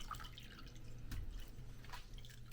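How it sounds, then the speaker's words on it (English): Water drips and trickles softly from a sponge as ink-stained fabric is rinsed, faint scattered droplets with a low steady background hum. "And we just rinse this off."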